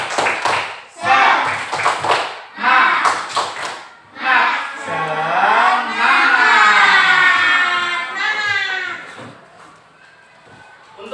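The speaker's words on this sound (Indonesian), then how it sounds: "silakan kita tepuk semangat terlebih dahulu" A school class performs the 'tepuk semangat' chant: several sharp, rhythmic bursts of group clapping at first, then a chorus of young voices shouting and chanting together, loud and close.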